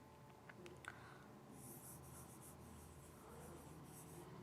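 Pen writing on paper during a class lesson on Coorg, soft faint scratching strokes heard close, with light rubbing and a quiet room background, no talking.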